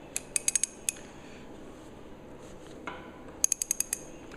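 A ratchet loosening the shock cap bolt on an inverted motorcycle fork gives a quick run of sharp clicks, then a pause and a second burst of clicks, close and crisp.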